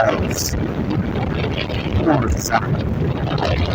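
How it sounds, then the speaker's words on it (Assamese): Steady wind rushes and buffets the microphone continuously, a loud broadband roar with no pauses. "ঠাণ্ডা ঠাণ্ডা ধুনীয়া বতাহ আহি আছে আমি ফ্ৰেছ হাৱা লৈ আছো"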